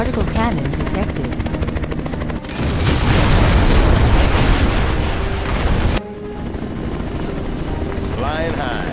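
A Comanche helicopter unit in Command & Conquer Generals, a loud whirring rotor drone joined by bursts of gunfire and explosions, with short game voice lines and alert tones over the battle.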